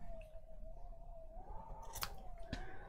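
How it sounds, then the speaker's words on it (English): Scissors snip off the thread end from a shabby chic junk journal tag, two or three quick close cuts standing out over a steady faint hum. "Just going to cut that end bit off where I secured the stitches, cut it off to the size that I wanted"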